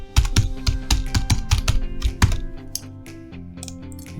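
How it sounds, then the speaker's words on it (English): A password is typed on a computer keyboard, a quick run of close, crisp keystrokes that slows into a few scattered taps, with no voices. "here's where I'll enter my password"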